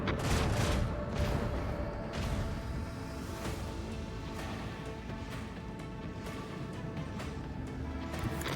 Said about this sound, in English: Macro cannons. Open fire.